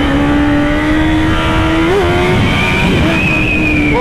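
Yamaha Tenere motorcycle arriving on a Chandigarh ride, its engine revving loud and close in a continuous rising and dipping whine over a rough low rumble, with no talk.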